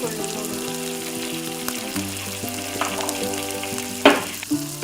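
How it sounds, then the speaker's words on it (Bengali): Mashed bean bhorta with tomato fries in a wok, crackling steadily with scraping strokes and a brief louder clatter near the end, under faint background tones. "এটা ভালোভাবে ভেজে নিতে হবে"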